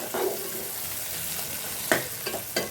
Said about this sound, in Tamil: இங்கே வந்து வெங்காயம் தக்காளி வந்து நல்லா வதங்கிடுச்சு.